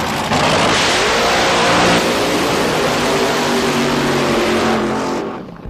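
Nitro drag racing cars accelerate down the strip with a loud, roaring engine blast that holds for several seconds before cutting away.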